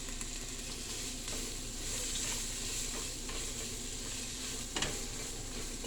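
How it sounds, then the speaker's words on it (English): Onion, garlic and ground turmeric sauté in a pan with a steady, even sizzle that holds at moderate volume throughout, with no talk. "Onion and garlic are sauteed enough."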